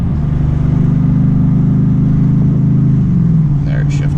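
A 2016 Ford F150 XLT in sport mode pulls hard with a loud, steady engine drone high in the revs, then the pitch drops as the transmission shifts up near the end.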